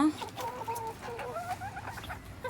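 Several chickens cluck and murmur continuously at close range, with soft overlapping calls and low background noise.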